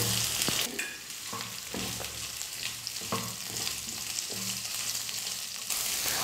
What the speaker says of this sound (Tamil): வெங்காயம் சேர்த்து 3 நிமிஷம் வந்து நான் நல்லா வதக்கியிருக்கேன்